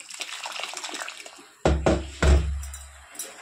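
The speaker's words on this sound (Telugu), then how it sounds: "కొంచెం వేడి నీళ్ళు పోసుకొని" Hot water poured into cooked dal and rava for katte pongali in a cooker, two heavy splashing pours followed by a fading gurgle.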